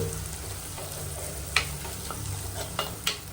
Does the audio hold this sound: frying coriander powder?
yes